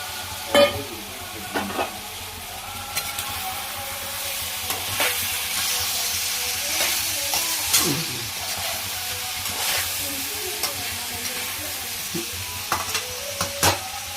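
Washed prawns sizzle in a hot pan for a home-cooked prawn curry, with a steady frying hiss broken by repeated scrapes and clinks of a spoon stirring against the pan, close and continuous.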